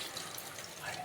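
Water from a vessel pours into a cooking pot, a steady faint splashing hiss that runs briefly without interruption.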